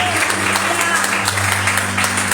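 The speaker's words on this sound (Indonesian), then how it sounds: "tepuk tangan bagi Tuhan" A church congregation claps together during an Indonesian sermon on financial breakthrough, a dense, steady patter of hands filling the room for a couple of seconds, with a low hum and murmur of voices underneath.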